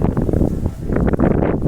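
Wind gusting steadily across open farmland in early summer, a continuous broadband rush close to the microphone that swells louder through the second half.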